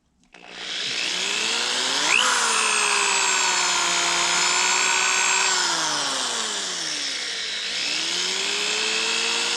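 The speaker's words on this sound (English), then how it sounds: "take a drill bit the diameter of my pin and drill the hole out" A power drill whines loudly and steadily, its pitch sagging as it bites into wood to bore a hole for a ramrod pin, then briefly easing and revving up again.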